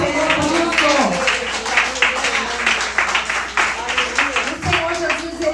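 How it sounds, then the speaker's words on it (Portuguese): A church congregation applauding during a women's service, scattered clapping heard under a preacher's ongoing voice with sung or drawn-out tones rising and falling over the claps. "Você pode glorificar a Deus, agradecer, aplaudir o nome do Senhor por isso."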